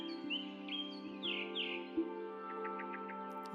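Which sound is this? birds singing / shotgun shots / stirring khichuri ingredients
birds singing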